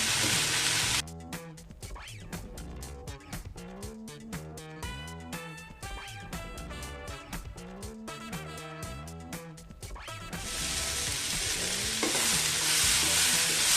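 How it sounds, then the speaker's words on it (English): Onions and chopped tomatoes cook together in a pan, softening for an usal pav dish. A steady sizzle and stirring run throughout, mixed with a prominent layer of rhythmic, tonal sound like background music. "And now we cook the onions and the tomatoes till they are nice and soft."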